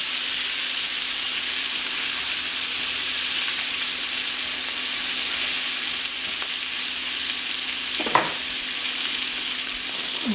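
Philly cheesesteak meat and asparagus fry in a pan with a steady, bright sizzle and hiss throughout, close and even, with a brief scrape or stir of the food near the end and no talking.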